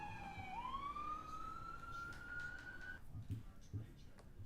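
A siren alert from trading software sounds once, a single rising electronic wail that sweeps upward and holds for a few seconds at moderate level, with faint background noise and a voice speaking softly afterward.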